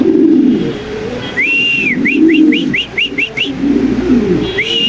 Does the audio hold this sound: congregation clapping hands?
no